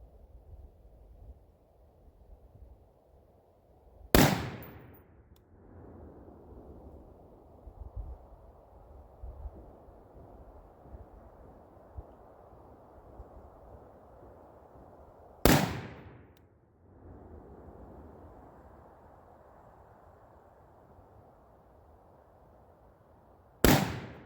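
A DDM4v7 rifle firing Winchester white box ammunition outdoors: three sharp, loud single shots roughly eleven seconds apart, each followed by a brief echo, with quiet ambient noise between them.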